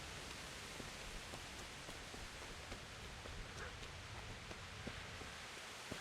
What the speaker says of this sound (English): I wonder if this rain is ever gonna stop too.